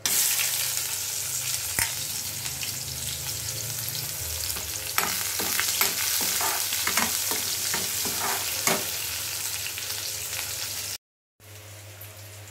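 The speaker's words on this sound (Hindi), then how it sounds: "और ये हम दाल फ्राई कर रहे हैं अभी" Dal frying in a pan gives a steady, close sizzle with repeated scraping stir strokes through the middle, then a brief dropout before the sizzle resumes.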